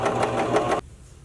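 A sewing machine hums in a brief close burst while stitching stretched elastic onto a bra, then cuts off abruptly into quiet.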